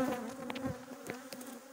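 Honeybees humming around an opened hive during a swarm transfer in the mountains, a close steady drone with individual bees whining past, no voices.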